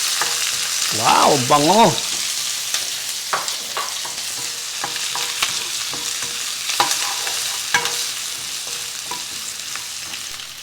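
Onion and garlic sizzle and sauté in a pan for pancit guisado, with steady frying crackle and occasional stirring scrapes, while a person speaks briefly over it.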